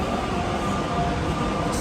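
A Doha metro train moves through a clean station, a steady rumbling hum with a faint high whine running underneath, continuous and moderately loud, without talk.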